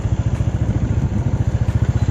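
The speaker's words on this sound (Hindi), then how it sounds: "तो यहाँ पे बाइक एंट्री कर दिया है अखिल ने।" A motorcycle engine entering the gate of a flower carnival festival: a steady, close, low throbbing putter with rapid regular pulses, loud and alone.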